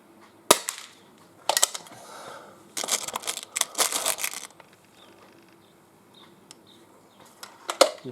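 Five sharp, close cracks from a Buckmark Magnum air pistol fired at a target at 10 yards, spaced about a second apart with small rattles and quiet room noise between them.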